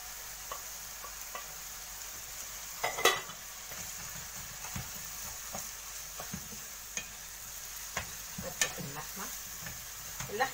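Meat dropped into hot onions and ghee with bay leaves, a soft steady sizzle with scattered scraping stirs and a few louder clanks of utensil on pan, close by, no talking.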